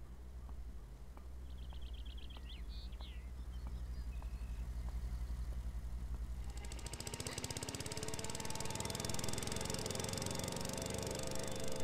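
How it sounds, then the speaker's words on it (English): A car engine in the video game Beyond Eyes starts as a faint hum under quiet outdoor ambience with a few distant chirps. It then swells into a loud, rapid, rattling drone like a lawn mower that keeps building as it draws near. "Oh, it's a car. It's not a dude with a lawnmower?"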